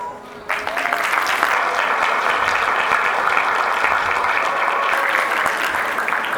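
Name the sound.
audience applause after graduation sponsor's speech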